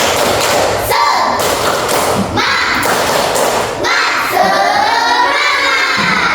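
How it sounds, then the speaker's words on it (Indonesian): A class of children clap in a rhythmic cheer pattern and shout together in a loud, echoing room. "kita tepuk semangat dulu ya"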